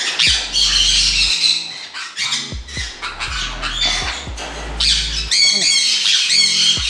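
Sun conure parrots in a breeding aviary squawk loudly and repeatedly at close range, shrill calls crowding one another almost without a break.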